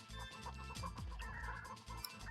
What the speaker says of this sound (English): something went wrong here and there's just a bunch of chickens.